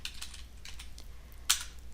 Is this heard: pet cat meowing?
no